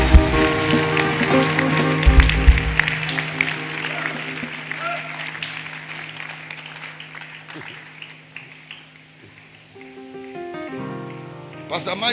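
An audience claps in a church hall during an evening revival session, a dense wash of applause that is loudest at the start and slowly thins out, while sustained keyboard or organ tones hold underneath.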